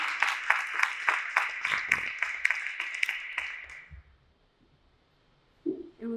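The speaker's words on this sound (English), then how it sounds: "please, a round of applause for José Pedro and for Mia Roth-Čerina." An audience at a European Bauhaus talk at CERN gives dense, sustained applause for about four seconds, then it stops abruptly into near silence, with a brief voice at the very end.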